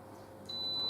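A cooker hob gives a single sustained high-pitched electronic beep as it is switched off. The tone starts about halfway through, is faint and close, and there is no talk over it.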